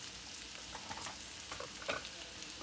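Ginger garlic paste sizzles and spits steadily in hot oil while cooking duth kochu (milk taro curry), a continuous close frying hiss with a few sharper pops.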